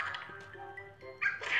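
Dog barks and yips from a dog simulator video game: a few short, high yelps and whiny tones in quick succession, moderately loud, with a brief louder burst near the end.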